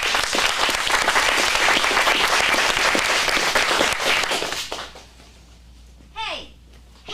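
An audience at an adult acting-class script showcase in Phoenix breaks into steady, dense applause for several seconds, then it fades out and a single voice calls out afterward.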